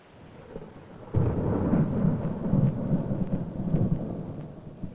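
A thunderstorm with a sudden loud thunderclap that breaks in and rolls on as a long, deep rumble over steady rain, with no voices.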